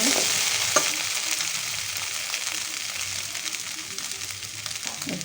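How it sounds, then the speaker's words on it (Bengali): Poppy seed paste with kundri stirred in a hot frying pan gives a soft, steady sizzle with scraping stir strokes throughout and one sharp clink near the start. "পোস্তটা দিয়ে আমি ভালো করে নেড়ে নিলাম।"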